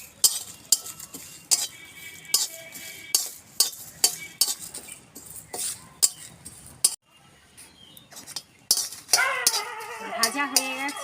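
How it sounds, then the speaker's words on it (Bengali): Bay leaves and cumin dry-roasting in a pan, stirred with a metal spatula in quick, repeated scrapes and clinks, and a brief louder sizzle near the end. "তেজপাতা, শুকনো খোলায় একটুখানি ভেজে নেব।"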